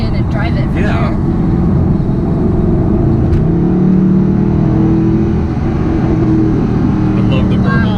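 A Mercedes-Benz SLS AMG engine rumbles with a deep, continuous low burble from inside the car, with faint pops and shifting revs, while people talk over it.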